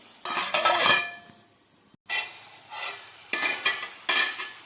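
Tomatoes, garlic and onion are stirred in a pan, with bursts of sizzling and scraping spoon strokes in an uneven rhythm, separated by short quieter gaps, and no speech.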